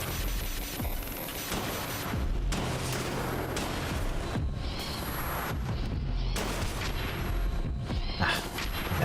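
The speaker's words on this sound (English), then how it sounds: "I'm gonna shoot down the flying thing first" Gunfire aimed at a flying robot in Concrete Abyss, a busy barrage of booming shots and bursts layered over a constant loud rumble, with sharp transients scattered throughout.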